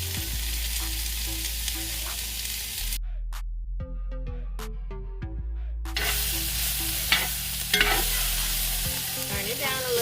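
Seasoned chicken and shrimp sizzle loudly in a warm pan, a steady hiss and crackle that cuts out for a few seconds with clinks of utensils, then returns at full strength.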